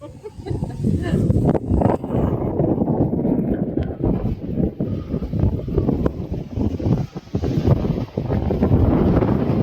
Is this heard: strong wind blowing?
yes